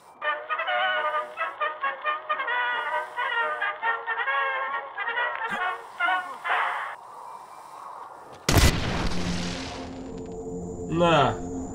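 An explosion in the video game Splinter Cell Blacklist hits as a single sudden loud blast with a short rumbling tail, preceded by a stretch of voices talking.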